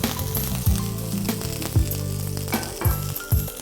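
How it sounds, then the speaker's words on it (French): Butter sizzling and spreading in a hot Tefal frying pan, a loud, close, continuous crackle with several sharp scraping strokes as the pan is tilted or the fat is spread. "Un peu de beurre dans notre poêle Tefal sensorielle. On va répartir le beurre dans la poêle."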